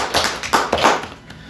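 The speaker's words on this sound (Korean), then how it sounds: "우리 하나님께 영광의 박수를 올려드려야 됩니다." A church congregation claps briefly during a sermon, making a short burst of scattered hand claps that fades after about a second.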